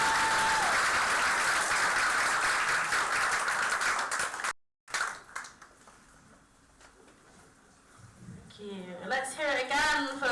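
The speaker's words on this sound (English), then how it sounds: "Massive round of applause because." An audience applauds young filmmakers at a youth showcase in a project space. Loud, dense clapping fills the first half, then cuts out abruptly. Quieter room sound and a voice talking follow.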